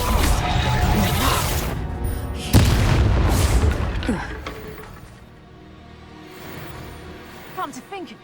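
A fire spell blast in the Hogwarts Legacy video game, heavy booming explosions with crashing debris over about four seconds, then a quieter tail with brief in-game voices and small pops.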